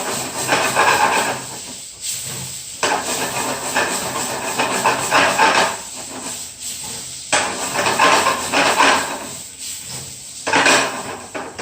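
Garlic prawns cooking in a pan give a loud, steady hiss of steam and sizzle that comes in surges with brief quiet breaks, along with light clatter of utensils against the pan.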